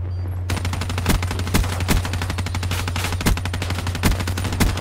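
A light machine gun in Call of Duty Black Ops 3 multiplayer fires long, loud, rapid bursts with punchy recurring impacts, opening abruptly after a brief quiet moment and continuing nearly nonstop.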